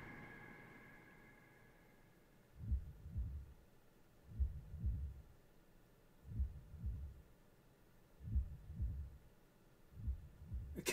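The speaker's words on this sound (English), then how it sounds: "then it's like that planet has a heartbeat" A heartbeat sound effect in a music video gives slow, deep paired thumps, about five beats evenly spaced over a faint hum, fairly quiet with no talking.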